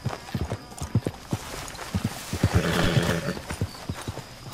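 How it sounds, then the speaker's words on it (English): Horse hooves clip-clop in uneven bursts in Red Dead Redemption 2, with a whinny rising midway through, fairly close and with no talk over them. "Damn that horse!"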